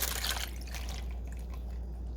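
Liquid is poured slowly over seasoned food in a slow cooker for a low-carb keto dinner, producing a steady, close wet trickle and splash over a low background hum, with no talking.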